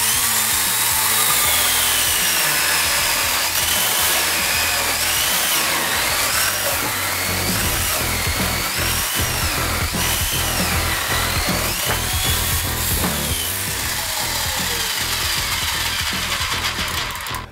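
An updated YamaMoto electric chainsaw cuts through four wooden beams glued together, its motor whining loudly and continuously up close while the pitch wavers under load.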